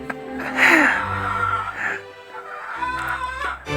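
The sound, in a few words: chickens clucking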